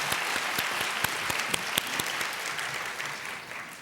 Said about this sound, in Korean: 우리 다시 한번 격려의 박수 하십시다